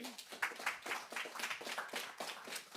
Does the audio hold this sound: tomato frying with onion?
no